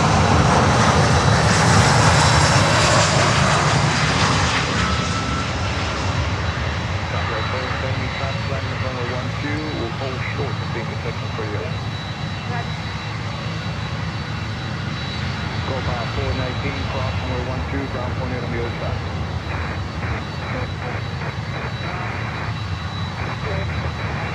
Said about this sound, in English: Avianca 320 in Star Alliance livery.